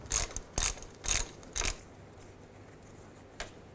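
A ratchet on a 3/8 extension loosening the fill plug on a 2001-2008 Chevy Trailblazer rear brake assembly, four quick clicking bursts in a row and then one faint click, close by with no talking.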